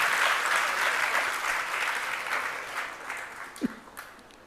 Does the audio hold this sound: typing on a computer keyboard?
no